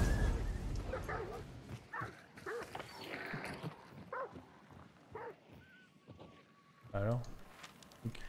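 Dogs in the video game Hunt: Showdown bark and yip repeatedly, mixed with whimpers and game sounds, while someone talks over them in French.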